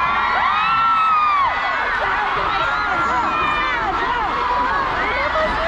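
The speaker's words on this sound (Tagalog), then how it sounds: "mainit na mainit dahil talaga pati yung mga dalaga humihiyaw" Crowd at a BBM-Sara grand rally in General Trias, Cavite, a dense wall of cheering with high-pitched shouts and whoops from young women, loud and sustained.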